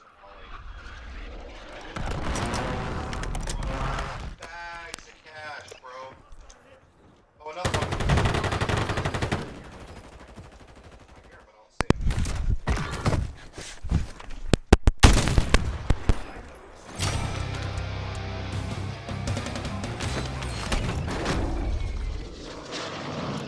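Rapid bursts of automatic gunfire and sharp shots in a video game's plunder mode, coming in loud clusters separated by pauses, with players talking over and between the volleys.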